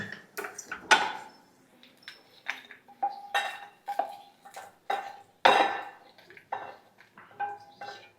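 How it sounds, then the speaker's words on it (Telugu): Cooked potato dish being moved from a pan into a bowl: a series of close metallic clinks, scrapes and knocks of a spoon against cookware at irregular intervals, with quiet gaps between. "ఇప్పుడు దీన్ని మనం ఒక దాని బౌల్లోకి తీసుకుందాం"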